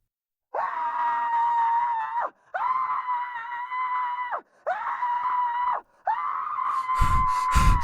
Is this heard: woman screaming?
yes